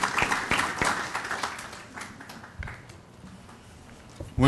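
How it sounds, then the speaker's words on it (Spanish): Audience applause at an internet governance forum panel, a burst of scattered clapping that thins and fades over a few seconds before a louder sound at the end. "Un aplauso, por favor"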